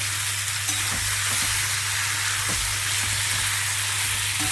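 Jackfruit curry with spices sizzles steadily in a pan on low heat, a close, continuous frying hiss broken by several soft scraping stirs, with no talking.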